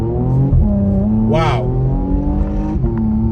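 A Porsche Macan Turbo SUV accelerating from inside the cabin, its engine note climbing through the gears with shifts and a brief rise in pitch, loud and steady throughout, with a person exclaiming over it.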